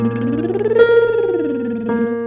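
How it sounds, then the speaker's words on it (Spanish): A singer performs a lip trill vocal exercise: a buzzing voiced tone glides smoothly up in pitch and back down over about two seconds, with a fresh onset just before the end, close and moderately loud. "vamos a hacer el ejercicio trino de labios"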